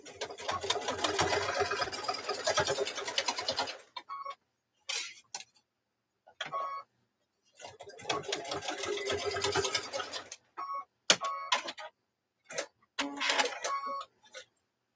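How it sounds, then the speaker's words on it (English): A sewing machine stitches down a lanyard edge in two long bursts of steady whirring, with short stop-start runs and small clicks between them, close and loud with no talking. "So you're just stitching that down there"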